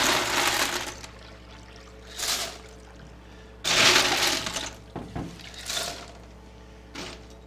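Ice tumbles into a container of water meant for pizza dough, coming in several separate rushing, clattering bursts of moderate loudness with short quiet gaps between them.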